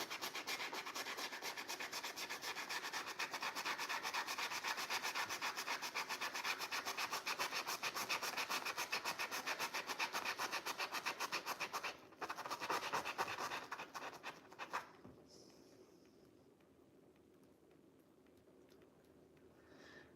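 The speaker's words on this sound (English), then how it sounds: "Yeah, it's a scratchy brush." A scratchy paintbrush rasps over a painting surface while hair is painted, giving a dense run of quick, close, dry scraping strokes that fade near the end.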